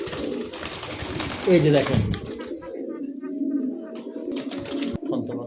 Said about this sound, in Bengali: দেখাই দিই, নাহলে আবার কইবো যে এটা কবুতর ডাকে কি না